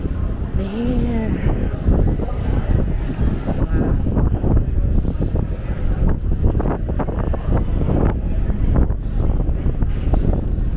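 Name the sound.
wind in the Maldives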